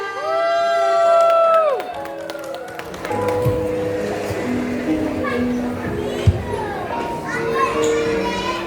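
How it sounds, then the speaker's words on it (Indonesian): An audience of parents at a kindergarten show cheers and claps for the children's group performance. A short tonal cue comes first, then a loud, dense crowd roar with scattered shouts and claps continues to the end. "Beri tepuk tangan yang meriah"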